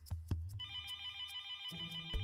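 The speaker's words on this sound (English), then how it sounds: "and then the phone rang." A telephone bell rings in short electronic bursts with a bright, sustained tone between them, clear and close, with no voices.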